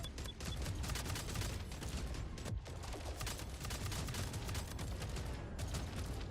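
Flak turret launchers opening fire in a space video game, a loud, sustained barrage of rapid repeated shots with a short pause midway, then continuous firing again.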